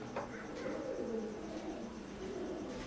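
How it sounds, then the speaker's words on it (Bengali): Teddy pigeons of an Oman bloodline, a zero-feather pair, cooing in soft low warbling phrases that run steadily through a quiet room with faint background noise. "এখন স্ক্রিনে যে কবুতর জোড়া দেখতে পারতেছেন"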